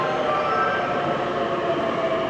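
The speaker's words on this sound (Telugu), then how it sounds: "మన ఎక్కాల్సిన ట్రైన్ కూడా వచ్చేసింది" A Japanese Shinkansen bullet train pulling into a station, heard as a steady, loud rushing roar that fills the whole stretch without talk.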